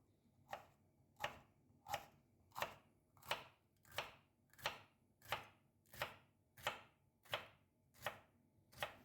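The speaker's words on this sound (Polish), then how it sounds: "Dwie trzecie zostawiam i kroję w cienkie paski" A knife cuts bell pepper into thin strips on a board, thirteen crisp, evenly spaced chops about every seven-tenths of a second, close but fairly quiet, with no voices.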